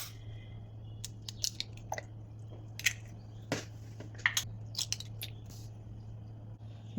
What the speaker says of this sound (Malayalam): ഒരു ബൗളെടുത്ത് അതിലേക്ക് 4 കോഴിമുട്ട പൊട്ടിച്ചൊഴിച്ച് കൊടുക്കാം